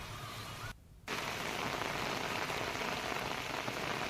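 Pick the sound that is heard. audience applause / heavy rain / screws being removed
heavy rain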